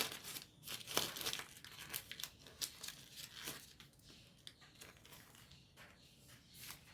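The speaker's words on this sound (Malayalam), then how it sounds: "ബട്ടർ പേപ്പർ എടുത്തിട്ട് അങ്ങനെ ഒന്ന് റോളാക്കി എടുക്കുക" Butter paper crinkles and rustles in close, irregular bursts while a chicken shawarma roll is wrapped and folded, with sharper crackles early and softer handling sounds after.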